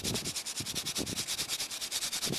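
Putty is sanded by hand on a paper-covered model roof in a quick, steady rhythm of soft, even rubbing strokes, close and alone.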